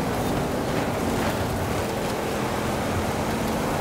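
Steady rain hiss from a wet cross-country Estadio circuit race in Forza Horizon 5, a dense continuous wash of broadband noise with a faint low engine rumble beneath, even and unbroken throughout.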